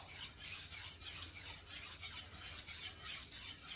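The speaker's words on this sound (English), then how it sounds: "pushing a little harder on the stone as I'm coming towards myself, and then just kind of grazing it on the way back" A kitchen knife rasps on a whetstone in steady back-and-forth strokes, firmer pressure on the pull stroke and lighter on the return, quiet and close with no talking.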